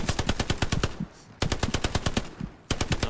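Rapid automatic gunfire from the World War II shooter game Hell Let Loose, loud bursts of repeated shots in fast rhythm broken by two short pauses, with no talk over it.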